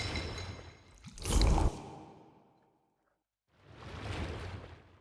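Water whoosh sound effects: a loud rushing swish of liquid peaks early and tails off into silence, then a second softer watery whoosh swells and fades, with no talking.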